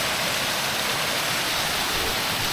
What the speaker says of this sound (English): I want to see the water splashing at the bottom there